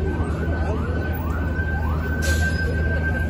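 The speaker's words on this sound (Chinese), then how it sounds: "二十多辆警车呀" A police siren wails in repeated rising and falling sweeps, fairly near, over steady traffic rumble on a city street in Flushing, Queens, where a couple of dozen police cars gather.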